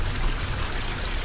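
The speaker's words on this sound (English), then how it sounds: "The water is running in and out, into the sump 24/7, and then overflows and runs out." Aquarium water running in and out of a sump on a continuous water change system, a steady, soft trickling flow that holds constant throughout with no talking.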